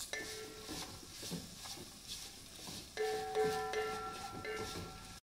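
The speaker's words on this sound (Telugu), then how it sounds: "వేసుకొని ఇలా కలుపుకోవాలి." Malabar spinach with green chillies being stirred in a pan, soft scraping and shuffling strokes with light sizzling and occasional utensil clinks, close by under a steady background hum.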